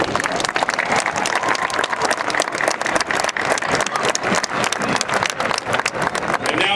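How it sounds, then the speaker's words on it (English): A graduation audience applauds a commencement speaker at a university ceremony, with dense, continuous clapping from a large crowd filling the hall, steady and loud throughout. "So let's give Mr. Butler another round of applause."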